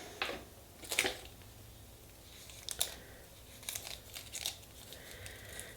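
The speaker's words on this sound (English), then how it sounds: "let's see if I can get my tape here" Tape is pulled and handled at close range, giving a few short crinkling and ripping bursts with quieter rustling between them.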